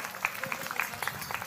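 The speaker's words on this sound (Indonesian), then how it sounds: "Tepuk tangan buat Pak Eko." Audience at a religious gathering applauding, a fairly soft, scattered patter of hand claps with a few sharper individual claps standing out.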